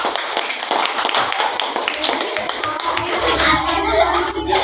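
A classroom group of students applauds a presenting group, giving dense, close clapping that runs steadily from start to finish with no pause, alongside faint background voices.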